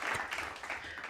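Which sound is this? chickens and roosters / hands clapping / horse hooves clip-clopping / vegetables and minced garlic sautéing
hands clapping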